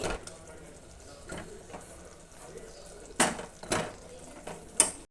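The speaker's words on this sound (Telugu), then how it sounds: "ఇప్పుడు దీంట్లో మనము మసాలా కూరి పెట్టుకున్న వంకాయలన్నీ ఇలా వేసేసుకొని" Masala-stuffed brinjals dropped into a hot pan of curry base, giving a few sharp clatters and soft thuds against the pan over a faint sizzle, with the loudest bursts coming near the end.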